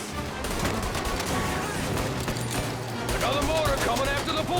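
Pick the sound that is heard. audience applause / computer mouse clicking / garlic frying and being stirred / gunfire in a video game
gunfire in a video game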